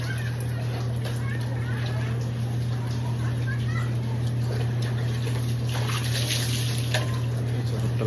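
Water pouring and splashing while someone bathes outdoors in the rain, a steady rushing hiss under a constant low electrical hum, with faint voices now and then.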